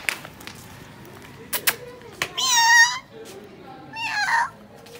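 A cat meows twice, the first call longer and drawn out, the second shorter, amid a few clicks and thumps in a quiet room.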